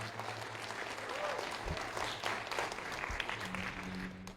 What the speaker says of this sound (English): Give them and yourself a round of applause before I get going.